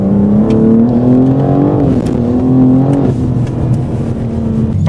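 A BMW M4 G82 Competition with a new exhaust, 600 hp and 750 Nm of torque, revs hard and accelerates, its deep growling exhaust rising and falling in pitch, loud and close throughout.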